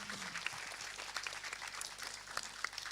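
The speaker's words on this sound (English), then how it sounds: "Can we please have a huge round of applause?" Steady applause from an audience fills the space, a dense wash of clapping with no voices.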